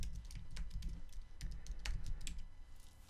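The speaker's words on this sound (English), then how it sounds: "I'm going to type that in here now" Typing a password on a computer keyboard: a quick run of close, light key clicks in an uneven rhythm, fairly quiet with no talk.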